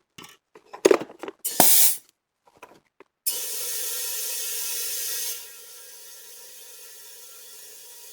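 A compressed air line on a car valve repair hisses steadily for a couple of seconds, then drops to a quieter continuous hiss, after a few sharp clicks and short bursts of mechanical handling.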